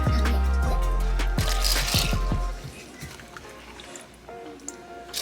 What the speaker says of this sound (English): now you're gonna take this water and let me measure it out